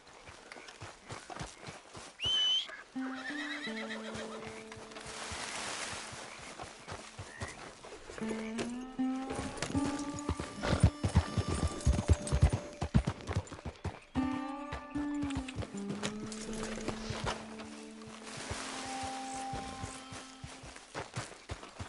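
A horse in the Red Dead Redemption II video game walks with clip-clopping hooves, snorting and whinnying at close range, its calls recurring with a few louder thumps and movement sounds in between.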